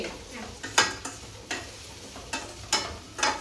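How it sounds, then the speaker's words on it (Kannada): A spatula repeatedly scrapes and knocks against a pan as vegetables are stirred and fried for fried rice. The clinks come in an irregular rhythm of about eight sharp strokes over a soft background sizzle, close by, with no talking. "ವೆಜ್ಜಿಗೆಲ್ಲ ಸಖತ್ತಾಗಿ ಬೇಯಬೇಕು"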